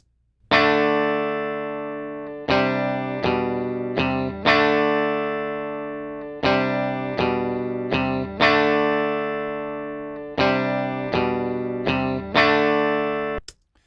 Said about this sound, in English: This is what my guitar sounds like clean.